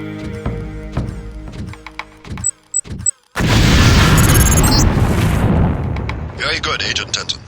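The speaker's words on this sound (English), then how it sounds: "If you aren't close enough, the lamp will fall to the ground and detonate." A LAM proximity mine detonates in the Deus Ex demolitions training area after dropping to the ground. A loud, sustained blast rumbles and roars for several seconds following earlier mechanical clicks and beeps.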